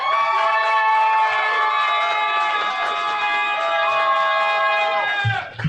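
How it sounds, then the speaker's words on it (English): Audience at a live slam poetry event cheering and whooping for a poet, a sustained roar of many voices with applause, loud and continuous before fading out at the end. "Keep that round of applause going for Alex."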